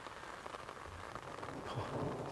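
Steady rain falls at a disc golf course in Fountain Hills, a faint continuous patter with soft scattered drops and no voices over it.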